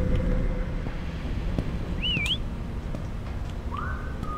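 Two short rising whistles sound in a dark video game, the first a wavering call and the second fainter and farther off, over a constant low windy hum with no speech.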